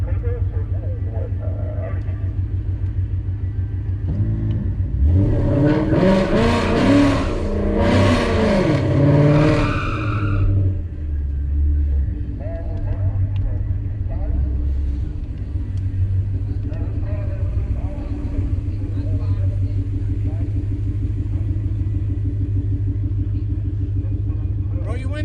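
A Ford Mustang 5.0 at a drag race roars up loudly for a few seconds, then drops back to a low idling rumble from inside a car, while people talk over it.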